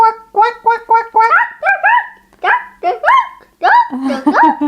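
A human voice imitates farmyard birds, giving a run of short clucking hen calls followed by a string of nasal duck quacks, loud and close with brief gaps between each call.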